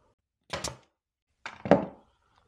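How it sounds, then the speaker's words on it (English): A hammer strikes a nail into wood twice, with about a second between blows. Each hit is a close, solid thunk that fades quickly into silence. "I'm going to hit this nail since it's farther from my fingers."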